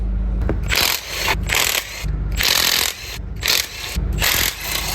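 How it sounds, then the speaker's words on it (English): A ratchet works loose the lower timing cover bolts on a Chevrolet Equinox 2.4L engine, giving close, loud bursts of rapid clicking with brief pauses between strokes, and no talk. "We got some bolts to take out of the bottom of the timing cover"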